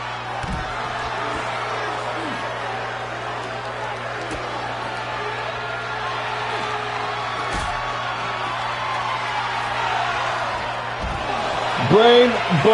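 A professional wrestling crowd at a championship tournament fight night keeps up a steady, loud roar with cheering throughout, and a brief impact sound comes through near the end.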